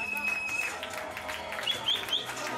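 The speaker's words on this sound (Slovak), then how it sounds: "veľký potlesk!" Applause at a school matriculation ceremony comes from a crowd as a steady patter of clapping. Chattering voices and a few high birdlike whistles mix in over it.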